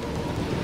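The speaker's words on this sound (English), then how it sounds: "A storm is getting closer." Steady downpour with a low thunder rumble during a storm in the video game Mass Effect 3, at a Mars facility; a brief, loud, dense wash of rain without speech.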